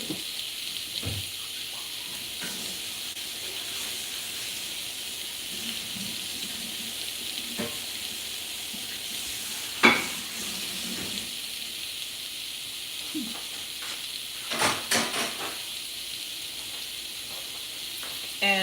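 Shrimp frying in a pan give off a steady bright hiss that runs throughout, broken by a few soft clinks and bumps of utensils, with no talk.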